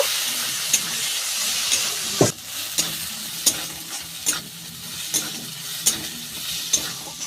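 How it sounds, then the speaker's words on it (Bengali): Ground mustard paste fries with ginger and cumin in hot oil for a tilapia curry, a steady sizzle broken by regular scraping strokes of a spatula stirring the pan. "এইবার বেটে রাখা সর্ষে দিয়ে দেব। 2-1 বার খুন্তিয়ে করে নেড়ে নেব।"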